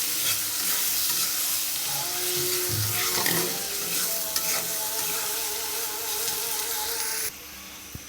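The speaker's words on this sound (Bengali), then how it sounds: "পেঁয়াজটা হালকা করে ভেজে নেব।" Onion fries lightly in a pan with salt and turmeric for a Bengali fish curry, a loud, constant sizzle with stirring scrapes before it drops away abruptly near the end.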